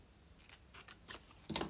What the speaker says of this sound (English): So we just need to cut up underneath the shirt front on either side.